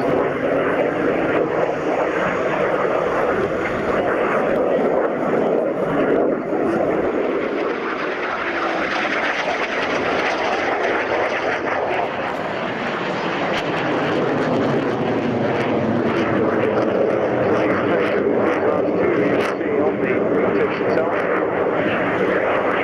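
A military jet at a navy airshow roars continuously overhead, loud and sustained with a slowly shifting engine tone, while a commentator talks over the public address throughout.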